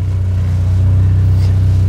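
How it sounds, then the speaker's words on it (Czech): A sports car engine idles close by, a steady, loud, low rumbling throb that stays even throughout with no revving. "To má zvuk jak starý Volkswagen Brouk takhle na volnoběh."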